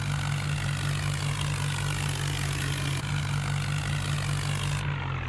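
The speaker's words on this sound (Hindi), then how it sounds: "इस ट्रैक्टर की गरज, सब कुछ एकदम मस्त। अरे सुनो सुनो, ये जो धड़ धड़ धड़ की आवाज आ रही है" A Swaraj 855 tractor engine in a farm vehicle simulator game drones loudly and steadily throughout, a continuous low rumbling hum with no pauses.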